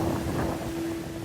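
Strong force 8 wind at sea aboard an IMOCA racing yacht roars continuously and close, with steady low rumble and buffeting over a sustained droning tone, no talk.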